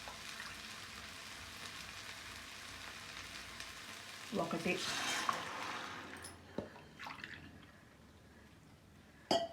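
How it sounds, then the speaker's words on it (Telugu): Water poured from a cup into a cooking pan, three cupfuls measured for cooking semolina, gives a short splashing gush midway, then scattered drips and small clinks, with quiet talk nearby. "ఈ కప్పుతో 3 కప్పులు నీళ్ళు అయితే పోసుకుందామండి"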